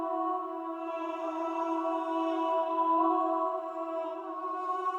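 Sampled choir on a light, prism-style preset holding long, sustained harmony notes, a smooth steady chord with a shimmering airy top, no talking.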